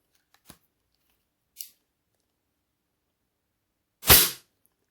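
A single Diana LP8 Magnum air pistol shot, a sharp loud crack with a brief tail, preceded by two faint short clicks in near silence.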